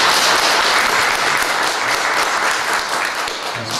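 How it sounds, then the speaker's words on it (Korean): Dense, steady applause from an audience welcoming a new youth teacher at a church gathering in Korea, filling the whole stretch evenly and close with no talk over it. "박수로 맞아주시면"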